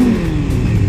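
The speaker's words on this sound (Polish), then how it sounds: "daje trochę gazu" A car engine revs with a loud, steady mid-low drone and rising throttle, heard up close with no speech over it.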